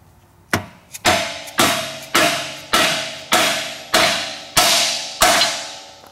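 A hammer drives solid subframe bushings into a Nissan 240SX S13/S14 subframe with about nine sharp metallic whacks at a steady, roughly half-second rhythm, loud and close, each ringing briefly before the next blow.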